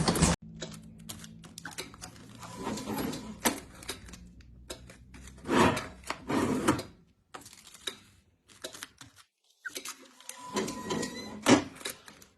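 A hand-operated cigarette-making machine in a workshop runs with clattering, ratcheting mechanical noise in uneven bursts and brief silent gaps.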